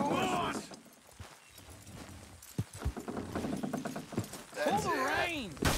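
A horse's hooves clip-clop in the video game Red Dead Redemption 2, with a quick run of regular, close hoof beats heard between bursts of excited talking.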